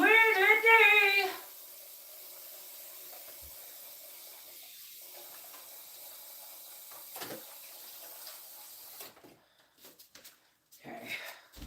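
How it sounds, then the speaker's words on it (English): Hot tap water runs to rinse out a container in a home kitchen, a faint steady hiss that follows a brief burst of singing and is broken by occasional bumps and talk. "I'm going to rinse this out with hot water."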